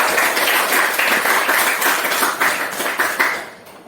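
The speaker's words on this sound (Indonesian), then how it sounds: "Oke, kita berikan aplaus untuk dia." Students applauding in a classroom, a steady dense burst of many hands clapping nearby that holds for a few seconds and then thins out and fades at the end, with no talk over it.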